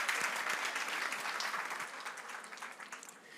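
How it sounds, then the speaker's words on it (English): An audience at an African women-in-tech summit panel applauds a guest, a faint, distant patter of many hands that tapers off gradually. "Please, a round of applause for my guest."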